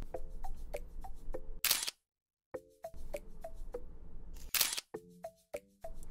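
Camera shutters click in quick repeated bursts during an idol-costume photo shoot, sharp close snaps in uneven rhythm broken by a couple of louder whooshing flashes and a brief silence.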